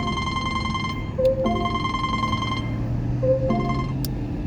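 A phone rings in two electronic bursts of repeated tones, with a short gap between them, steady and fairly close against a low background hum.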